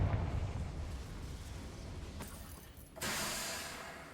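Explosive spell blast in the video game Hogwarts Legacy: a loud burst at the start rumbles and decays, with a second sharper crackling burst near the end, both playing alone without talk.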